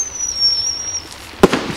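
A shot from a Cupid's Arrows Roman candle, a cheap five-shot firework, gives a descending whistle and then one sharp crack, with a brief sputter after it.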